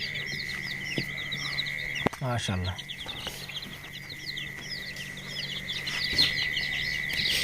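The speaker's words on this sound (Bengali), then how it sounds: "এটা হচ্ছে মোরগ একটা মোরগ সাদা আছে সেখানে মোরগটা এই কিছু মুরগি সাদা রয়েছে এখানে" A white rooster and hens among poultry kept for sale cluck and chirp continuously at close range, with a brief spoken voice partway through.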